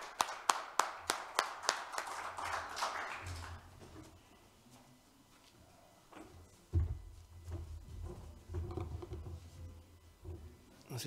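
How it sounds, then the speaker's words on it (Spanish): A short burst of audience applause, a dozen or so sharp claps fading out after a few seconds, followed by quiet room sounds and shuffling. "Un aplauso, por favor, Hernán."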